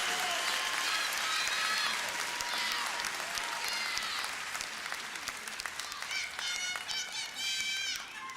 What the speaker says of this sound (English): if we could give each one of our scholars another huge round of applause for their bravery in enlisting in our United States Armed Services